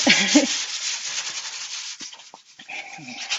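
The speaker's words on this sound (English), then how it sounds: "I am just going to rub my Spiri sponge in a little bit of cleaning paste" A sponge loaded with cleaning paste scrubs an oven surface in steady rasping strokes, close and fairly loud, with brief pauses toward the end.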